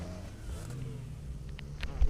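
A car engine drives in PUBG Mobile, giving a low, steady droning hum at moderate volume, with a short thump right at the end.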